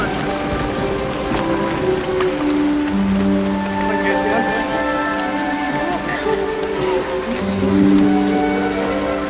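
Steady rain falling with a constant hiss, accompanied by tonal music and what sounds like speech woven through it.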